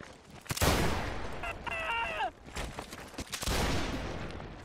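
Musket-style gunfire in the Mount & Blade North and South game crackles in scattered volleys, some near and sharp, others distant, mixed with battlefield noise and a brief talking voice.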